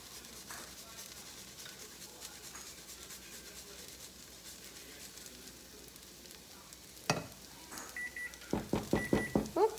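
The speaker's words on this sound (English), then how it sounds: "there's my timer on my noodles" A kitchen timer goes off for noodles, a run of short repeated beeps near the end. Before that is a quiet kitchen with faint sizzling and scattered clicks.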